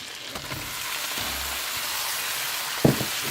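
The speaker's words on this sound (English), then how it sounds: "you see that's bubbling away nicely" Seafood chowder simmers in a pot with a soft, steady hiss and crackle, a few louder pops and a clunk near the end.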